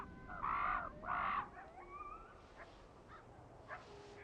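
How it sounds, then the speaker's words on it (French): Crows caw near a wolf kill in the Rockies: two loud, harsh caws close together, then scattered fainter calls against a quiet outdoor background. "Il y avait une trentaine de corbeaux qui s'envolaient lorsqu'un loup entrait dans la carcasse."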